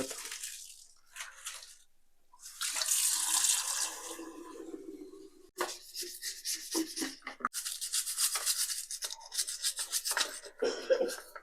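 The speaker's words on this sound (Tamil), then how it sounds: "நல்லா சோப்பு போட்டு வாஷ் பண்ணிடுவோம்" RO water filter parts are scrubbed with soap under a running tap, with intermittent splashing water and rubbing sounds coming in uneven bursts, close and fairly quiet.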